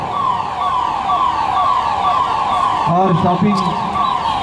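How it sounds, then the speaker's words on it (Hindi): A fire brigade truck's siren wails as it arrives at a mock shopping-mall fire during a civil defence demonstration in Mumbai. The rising-and-falling tone is loud and continuous, with a brief voice breaking in near the end. "अभी आप देखेंगे कि फायर ब्रिगेड की गाड़ी जो है वहां पर आई हुई है"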